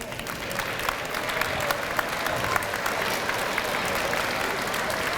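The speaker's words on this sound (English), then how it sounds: "Let's give them a round of applause" Dense, sustained applause from a large crowd at a school Veterans Day ceremony honoring veterans' families, steady and loud throughout with many overlapping claps filling a hall.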